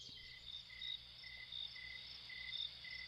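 Crickets chirp in a steady, pulsing rhythm of high, rapid trills that repeat every half second or so over a quiet low background, moderately close, used as a nature sound layer.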